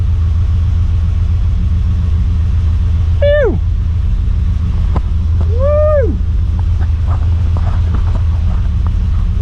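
A Ford Falcon XC wagon's 351 V8 idles with a steady low rumble close by, while a voice whoops twice over it.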